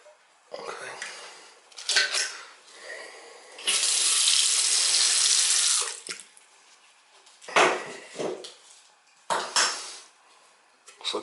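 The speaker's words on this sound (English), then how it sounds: "Turn the water on under the sink here" Water runs from a Delta faucet into a sink after a washer repair, a steady rushing stream for about two seconds amid bursts of clattering dishes and cutlery and short taps, close and fairly loud.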